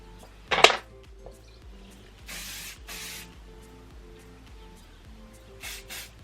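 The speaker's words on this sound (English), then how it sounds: "I'm just going to spray a little bit of oil on my actual hair" A spray bottle mists oil onto hair in several short hissing bursts, one sharp and close at the start, then softer puffs later, separated by quiet handling sounds, with no talking.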